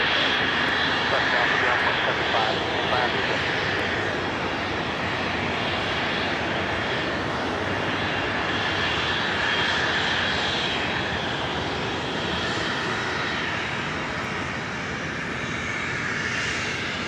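Airliner engines roar continuously at LAX airport, a broad, sustained rumble and hiss from aircraft on the runways, with voices faintly talking over it.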